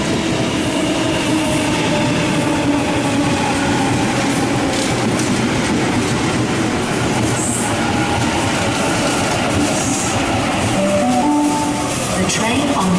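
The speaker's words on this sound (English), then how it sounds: "Waratahs at 8:38 is now departing platform number 2 on an Emu Plains service" A Sydney Waratah electric train departs the platform at Parramatta on an Emu Plains service, giving a steady loud rumble of motor and wheels on rail throughout, with brief squealing tones near the end and faint talk in the background.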